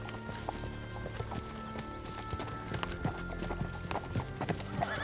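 Horse hooves clip-clop steadily at a walking pace, close by outdoors, with a horse snorting and whinnying now and then, over a tonal musical backdrop and no talk.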